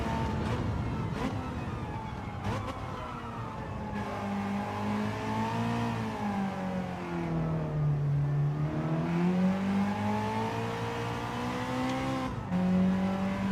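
A race car in a time-trial racing game on racing tyres drones steadily, its engine pitch dipping and climbing as it revs round toward 8000 rpm, loud and continuous for over thirteen seconds.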